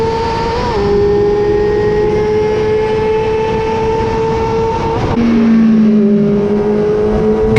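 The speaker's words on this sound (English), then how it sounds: "the power of an R6 is apparent as he passes me on the back straight" A Yamaha R6 motorcycle passes on the back straight of the Dubai Autodrome GP circuit, a loud steady high-pitched engine whine that drops sharply in pitch as it goes by, heard close from an onboard rider's perspective.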